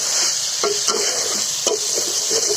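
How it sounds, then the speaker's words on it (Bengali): Chicken curry with green chilies frying in a pan, a loud sizzle with several rhythmic scraping strokes of a stirring spoon. "এখন আমরা এগুলো সুন্দর করে নাড়াচাড়া করে কাঁচা মরিচ দিয়েছি"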